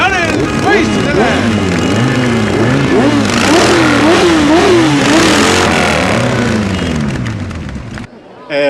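Motorcycles from a motorcycle club rev loudly in a town square during a town day event, engines rising and falling in pitch while a voice speaks over the din, the noise cutting off near the end.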